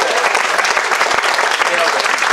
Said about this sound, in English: can we get an applause for the new couple here